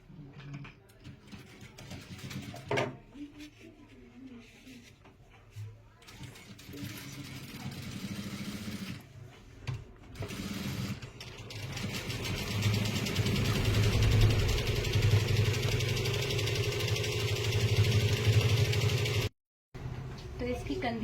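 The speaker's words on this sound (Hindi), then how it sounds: "अब मैं पहले यहाँ पे सिलाई लगा लेती हूँ।" A sewing machine stitching a blouse, giving a steady mechanical whirr that grows louder and continuous in the second half, with a voice talking over parts of it.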